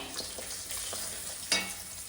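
Green chilies, curry leaves and turmeric fry in hot oil as a tempering for uppittu, giving a steady close sizzle with a few light stirring taps and a sharper crackle near the end.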